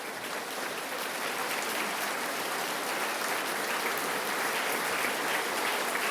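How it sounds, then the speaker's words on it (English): A large audience applauds during a state address, producing dense, steady clapping that holds at an even, loud level throughout with no voices on top. "Please stand so we can give you some applause as well."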